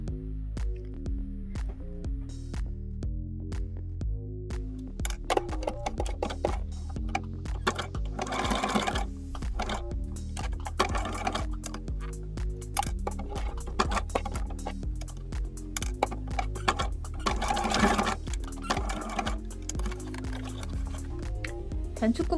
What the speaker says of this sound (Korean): 이 스티치 폭을 숫자를 줄여갖고 폭을 좁게 해서 바느질을 해주시면 됩니다